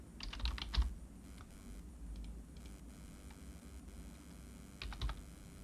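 Keystrokes on a computer keyboard, a quick cluster of clicks near the start and another brief burst near the end, with quiet hiss between them and no talking.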